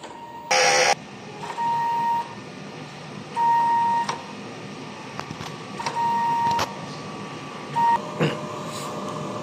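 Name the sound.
DTF printer running a print head cleaning cycle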